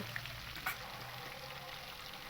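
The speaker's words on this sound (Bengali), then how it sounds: "ওই একই তেলের মধ্যে আমি বাকি যে মাছগুলো আছে সেই মাছগুলোকে কিন্তু আমি একই রকমভাবেই ভেজে নেব।" Pieces of katla fish fry in hot oil, a steady close sizzle with small pops, continuous and even throughout without talking.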